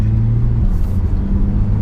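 A 2016 Porsche 911 Turbo S with all-wheel drive drives on the road, a steady loud low engine drone from inside the car, its pitch shifting slightly as it pulls.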